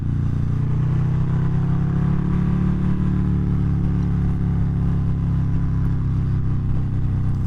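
A 2019 Harley-Davidson Fat Bob 117 with a Stage 3 upgrade rumbles with a deep, steady engine drone, its pitch rising slightly and then settling as it pulls hard in low gear, loud and continuous throughout.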